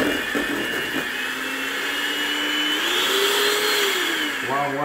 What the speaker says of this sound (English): who wants their blender to go the wrong way?